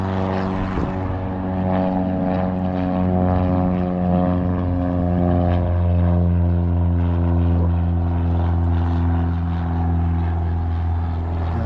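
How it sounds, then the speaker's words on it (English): A propeller plane's engine drones loudly and steadily throughout as it takes off, a deep humming roar with no voices. "that's the first plane I've heard take off"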